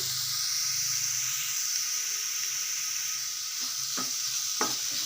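Grated carrot for coconut and jaggery laddu fries gently in a pan over a low flame: a soft, even sizzle and hiss, then two or three brief scrapes of stirring near the end.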